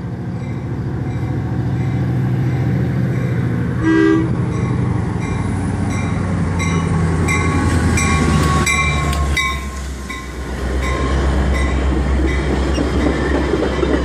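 A Metra commuter train rolls through Grayslake station, loud and close, its steady rumble joined by a short horn toot early on and a rhythmic clickety-clack of wheels over the rails.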